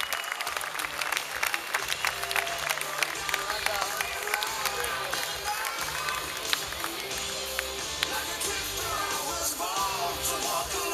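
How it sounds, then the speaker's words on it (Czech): After a close K-1 kickboxing decision an arena crowd applauds loudly and continuously, dense clapping mixed with shouts and cheers while a commentator talks over it. "ale potlesky pro Martina Gaňa"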